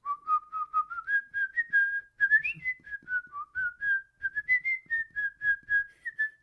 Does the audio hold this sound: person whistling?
yes